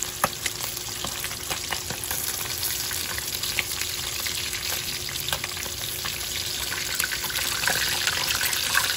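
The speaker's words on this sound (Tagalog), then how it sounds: "So, nagprito na tayo." Fish fries in a pan with a loud, continuous sizzle and crackle that holds steady for several seconds, close to the listener and with no talking.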